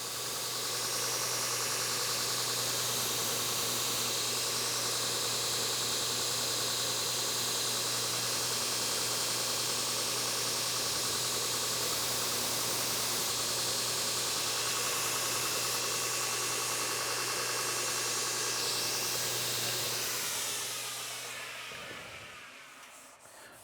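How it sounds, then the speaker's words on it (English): A belt grinder flattens knife handle scales, a loud steady roaring whine with a constant low hum that runs without pause and then spins down near the end. "we're going to go ahead and flatten these out on the grinder and on the stones"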